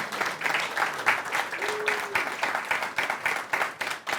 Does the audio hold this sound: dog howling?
no